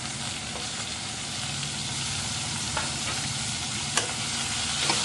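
Tomato frying in a pan with sautéed ginger and garlic, a steady close sizzle with occasional soft pops and stirring scrapes, constant and even with no talk.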